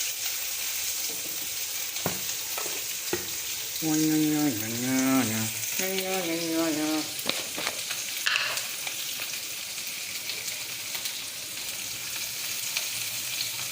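Mixed vegetables for a home-style kurma sautéing in a pan with salt, a continuous loud sizzle with occasional stirring scrapes; a voice speaks briefly midway over the frying.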